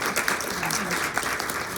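An audience at a book interview and Q&A claps together, a steady patter of applause throughout the short stretch with no voice rising above it.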